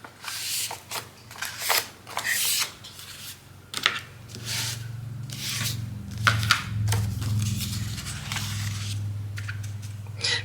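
Paper pages being folded for a Victorian-style junk journal, giving soft crinkling rubs and crisp creasing swipes in close, irregular bursts, with a low hum underneath.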